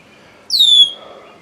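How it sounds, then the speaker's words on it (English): A red-winged blackbird gives a single loud, clear whistled call, a bright descending note lasting about a third of a second, rising sharply out of quiet outdoor background. "Oh, it looks like we have a bird. Red-winged blackbird."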